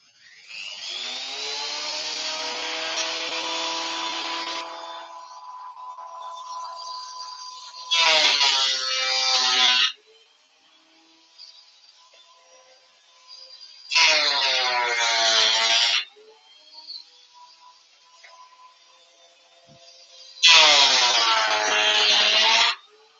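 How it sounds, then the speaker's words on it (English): A thickness planer runs with a steady whine, a vacuum on, then three loud roaring bursts as boards with screw holes feed through, each lasting a couple of seconds with quieter gaps between. "Thickness planer is a little bit noisy."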